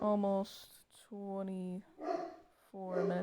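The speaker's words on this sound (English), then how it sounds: "That's my dog. That is my dog." A dog barks in short, loud, tonal bursts, about three separate barks spread over a few seconds, with a person talking in between.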